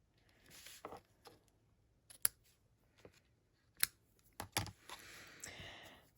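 Scissors trimming cardstock for a die-cut card, several sharp close snips spaced irregularly, with faint paper rustling between cuts.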